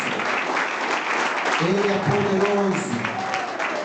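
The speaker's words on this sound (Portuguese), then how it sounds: "Se você pode aplaudir a Jesus, faça isso." A church congregation claps and cheers in steady, dense applause throughout, with a preacher's voice speaking over it.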